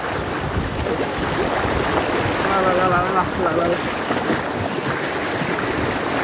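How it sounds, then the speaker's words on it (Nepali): Loud rushing river water at a stream in Sindhuli, Nepal, a dense, continuous roar close to the microphone, with a voice chanting briefly over it midway. "आज पानी बोल्ने एकदम धेरै बोल्यो"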